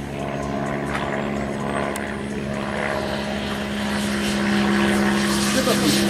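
Propeller airplane engine at an air show in Sarlat-Domme, a loud, continuous droning hum with a steady pitched tone that grows stronger toward the end as the plane passes close.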